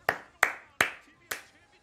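Four distinct hand claps ring out at a wrestling broadcast watch-along celebrating Shida's 50th win, sharp and close, spaced irregularly with quiet gaps between each.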